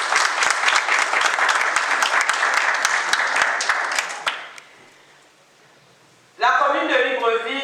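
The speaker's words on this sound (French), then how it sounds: "Donc je vous demande d'applaudir le certificat de mariage." Wedding guests at a civil ceremony in Libreville clap loudly and continuously for several seconds, then the applause fades out and a voice speaks over the quiet room.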